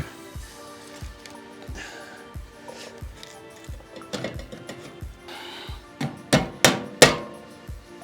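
Hammer strikes driving a baffle into a Vance & Hines motorcycle muffler, about a dozen sharp metallic blows at a steady pace that grow louder and harder toward the end, heard alone without talk.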